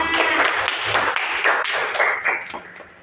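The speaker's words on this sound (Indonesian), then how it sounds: "ayo beri tepuk tangan buat temannya" Schoolchildren in an Indonesian primary classroom clap for a classmate after a fractions answer, a moderately loud run of quick hand claps with scattered sharp taps, fading toward the end.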